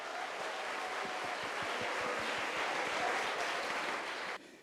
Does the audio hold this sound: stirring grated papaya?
no